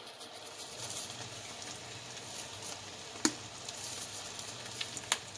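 Tomato, rosemary, mixed herbs and oregano go into a sizzling pan of roasted garlic tortellini pasta, a steady close fry with a few sharp clinks from a utensil.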